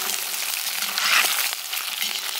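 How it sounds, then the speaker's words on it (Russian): Eight quails and about 700 grams of onion fry together in a kazan, giving a steady, fairly loud, crackling sizzle with a brief louder flare midway and no talk. "Теперь будем жарить вместе с перепелками."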